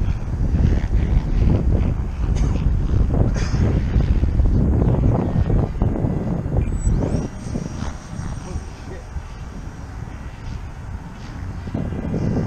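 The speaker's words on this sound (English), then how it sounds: "It's getting a bit windy." Wind buffeting the microphone at an RC plane flying field, a steady loud low rumble with gusts, and a faint high model aircraft whine passing partway through.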